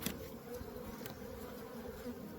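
Honey bees in a winter hive, a soft continuous buzzing hum from a few frames of clustered bees, faint and steady with no talking.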